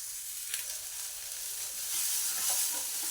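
Sweet corn kernels frying in a pan with a bright, steady sizzle that swells a little louder toward the end, with faint stirring, close and without speech.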